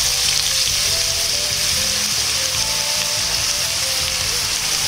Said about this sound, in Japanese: ココナッツオイルが液体状になるまで加熱したら、みじん切りにした材料を入れて炒めます。